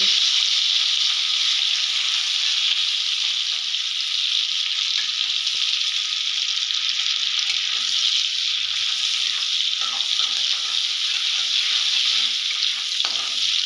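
Onions and masala frying in a pan for an Odia-style prawn and potato curry, a loud continuous hiss and sizzle with occasional light crackles, close up and without talk.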